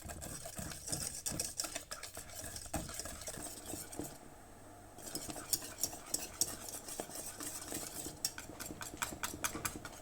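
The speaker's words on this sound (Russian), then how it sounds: "Размешиваем и нагреваем." A spoon scrapes and clinks steadily around a pot of butter and cocoa being heated, a busy rhythmic stirring with brief pauses, close by and without talk.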